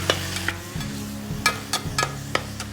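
Spatula scraping and breaking up ground beef frying in a pan for a hearty Southern chili with beans, giving sharp repeated scrapes over a steady low sizzle and a hum, close and fairly loud.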